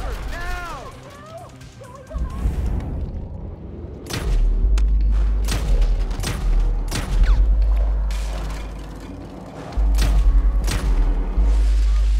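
Grenade blast followed by sustained gunfire in GTA V, heavy booming thuds and repeated sharp shots in bursts over a deep rumble, loud and close, with voices shouting in between.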